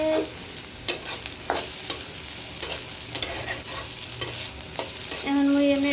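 Food frying in an uncovered pan, a steady sizzle broken by repeated scraping strokes of a spatula, close and fairly loud, ending in a brief clink.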